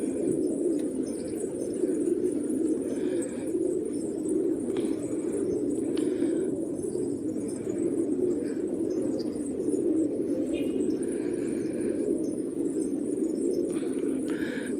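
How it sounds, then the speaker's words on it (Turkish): An Afghan pigeon, a black-and-white bird, coos steadily in a loft alongside other pigeons, a continuous low murmuring that fills the background with faint chirps over it. "Şu karalacı Afgan kuşu arkadaşlar"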